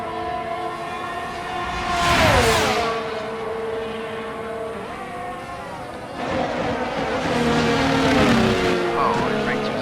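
An F1 race car in EA Sports F1 22 at the Saudi Arabian Grand Prix, its engine whine dropping sharply under late braking, then rising again as another car runs close alongside, with commentary talking throughout.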